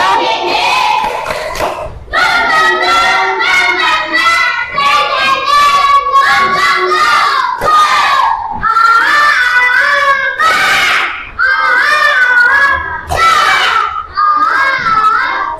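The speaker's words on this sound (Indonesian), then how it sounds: "Ayo sekarang kita tepuk semangat dulu lagi" A class of schoolchildren performs the 'tepuk semangat' clapping chant, loud voices chanting together in rhythmic bursts punctuated by sharp group claps and short pauses.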